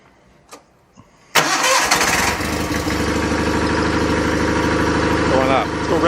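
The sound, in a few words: John Deere 318 lawn tractor engine starting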